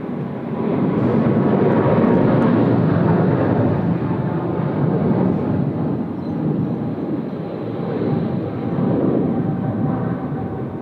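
An Emirates A380 departing Sydney Airport on flight EK412 gives off a loud, sustained jet roar that swells and dips in waves for about eleven seconds, heard alone without talk.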